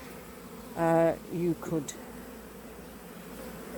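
Bees buzz softly and continuously around a hive while someone says a few words near the start.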